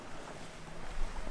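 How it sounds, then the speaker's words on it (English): Steady wind rushes past a sailboat at sea, a broad continuous roar with low rumble that builds slightly toward the end, no voices. "Not so much wind. It's picking up a little bit now, I think."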